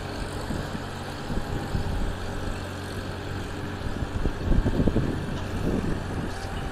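A Kubota L3608 four-wheel-drive tractor with a 36-horsepower diesel engine, running at low revs with a steady rumbling drone and some clattering knocks, no talking.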